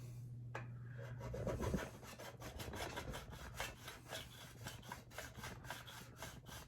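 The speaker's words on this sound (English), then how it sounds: "is rub this stone, and see, now you have this line" Silver is rubbed back and forth on a testing stone, making a quiet, repeated scratchy rasping close by, with rhythmic strokes continuing steadily.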